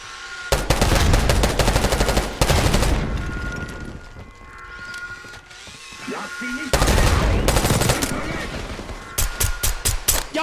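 Dense bursts of automatic gunfire and single shots ring out in the video game Call of Duty: Black Ops 6, loud, with short pauses between volleys and a player talking over it.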